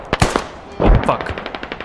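Rapid bursts of automatic gunfire in the military shooter game Squad, two quick clusters of sharp shots followed by a string of fainter, more distant pops.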